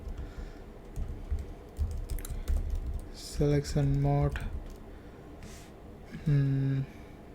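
Java code being typed on a computer keyboard, with steady, close keystroke clatter throughout and a few brief tonal bursts in the middle and near the end.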